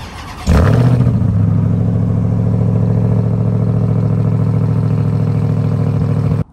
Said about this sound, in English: cold start in this thing is nasty, and this is a stock exhaust